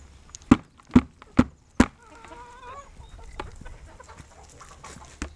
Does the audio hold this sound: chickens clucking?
yes